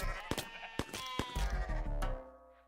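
Sheep bleat repeatedly in the Necesse video game, several wavering calls overlapping amid game sounds before fading out near the end.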